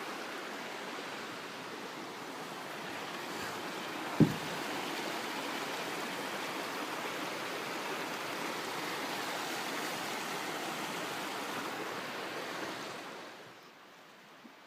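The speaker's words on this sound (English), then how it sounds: "this is the creek that comes out of Jameson Lake and Grass Lake" A mountain creek flowing from alpine lakes near an old mine site along a hiking trail rushes steadily, giving a broad, even wash of water noise with one brief thump partway through before the sound fades out at the end.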